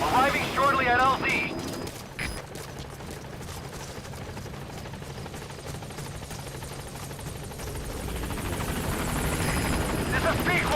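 The Pequod helicopter in Metal Gear Solid V thunders with a steady rotor roar, loud and close, with a short clattering burst near the start, holding steady before swelling toward the end.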